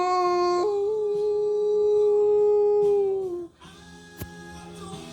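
A person imitates a werewolf howl, a single long sustained vocal wail held for about three seconds, loud and close, before it breaks off into quieter background noise and a brief click.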